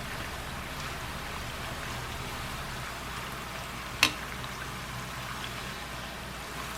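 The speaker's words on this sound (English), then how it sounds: "when they almost finish, they don't have that much bubble from the oil" Thin banana slices deep-frying in hot oil for Lao banana chips, a steady soft bubbling hiss that stays even throughout, with one brief sharp click midway.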